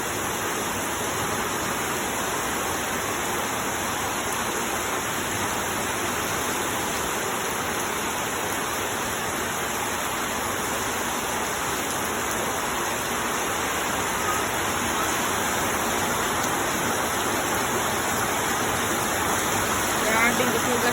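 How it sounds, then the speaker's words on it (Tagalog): Heavy rain pours down in a dense, steady hiss that stays even and loud throughout, with a constant high-pitched tone layered over it. "Grabing gusugas uwan guys."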